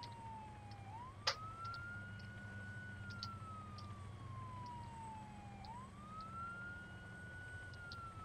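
An emergency vehicle siren wails in a steady rising and falling cycle, fairly close and continuous, with a sharp brief knock early on and a low rumble of traffic or an engine underneath; no one speaks.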